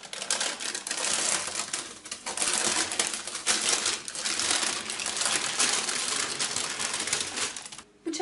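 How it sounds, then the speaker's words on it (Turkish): Baking paper is peeled off a cooled chocolate sponge cake, making a steady, close crinkling and rustling that continues for several seconds with slight dips before ending. "Pandispanyamız iyice soğuduktan sonra pişirme kağıdını dikkatlice çekelim."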